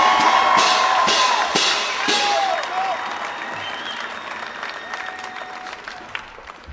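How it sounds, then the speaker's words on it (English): Sustained applause from a large outdoor crowd at the 2012 Texas Rally for Life, welcoming a speaker, dense clapping with a few whoops, strongest at first and gradually thinning over several seconds. "there's one man who deserves a very big round of applause as we welcome him"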